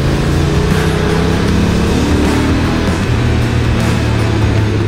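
Honda NT1100 motorcycle engine pulling hard to overtake, a loud, steady drone with strong low harmonics and wind roar throughout, the pitch shifting slightly as it accelerates.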